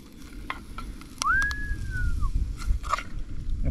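Bacon sizzles softly in a pan on a camp stove outdoors on Fraser Island. A steady low frying hiss runs throughout, and a single drawn-out whistling tone cuts in briefly partway through.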